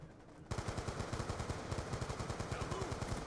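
Rapid automatic gunfire from Call of Duty Black Ops 2 starts abruptly after a brief quiet moment and continues as an even, fast burst of shots, loud and close.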